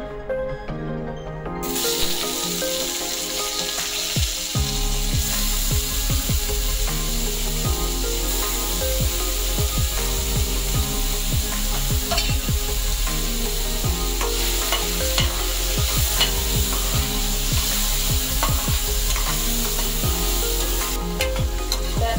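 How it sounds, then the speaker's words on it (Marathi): Tomatoes sizzle steadily in a hot kadai while a utensil stirs and scrapes through them in repeated strokes, close and fairly loud. "तर परत त्याच कढईत आपण टोमॅटो भाजून घेऊया।"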